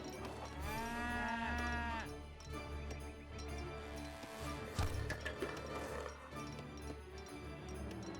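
Cattle mooing at a livestock market in the game Age of Empires 3, one long loud bellowing moo at the start followed by busy game sounds, hooves and faint clatter.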